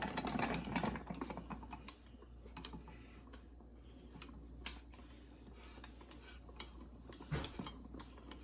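A screw press cranked down on eggplant being pressed for preserving in oil gives quiet repeated mechanical ticks and clicks over a low steady hum, with a few sharper knocks near the start and later.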